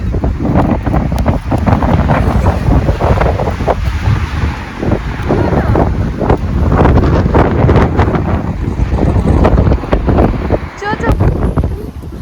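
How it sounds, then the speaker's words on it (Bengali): Strong wind buffets the microphone on a rainy street walk, a loud continuous low rumbling roar with gusty surges, while someone talks over it. "খুব হাওয়া"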